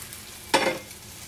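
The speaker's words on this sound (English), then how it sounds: "We will cook these meatballs until they are brown on almost all the sides" Meatballs in a hot stainless steel pan give a single short burst of sizzling that fades quickly into a faint background hiss.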